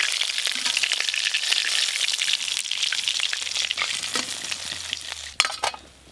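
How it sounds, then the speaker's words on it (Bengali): Pieces of stingray fish fry in oil, a loud dense sizzle crackling steadily and up close, ending with a few clattering spatula knocks as the spitting fades. "এই মাছগুলো 3 বারে ভাজতে হবে"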